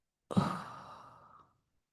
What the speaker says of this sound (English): take a deep breath. Blow out